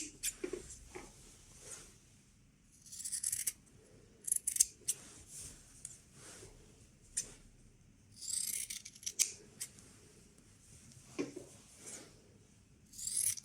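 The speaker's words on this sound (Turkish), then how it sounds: "şimdi şurada görmüş olduğunuz üçgen kısmında olan kısmı şöyle kesiyorum" Scissors snip through fabric for making elastic hair ties, a series of quiet, close cuts in short irregular bursts, separated by soft rustling of the cloth.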